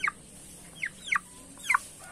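Young black-legged ayam ulu chickens, about 38 days old and still in juvenile feathers, give four short, clear calls spaced across a couple of seconds, close by with no talking.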